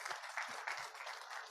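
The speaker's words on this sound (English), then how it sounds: "Let's give a big round of applause as well." Applause from a conference audience after a speaker at an event on small businesses with Indonesia's tourism and creative industries minister: a steady patter of many hands clapping, fairly faint, with a few louder claps, lasting under two seconds.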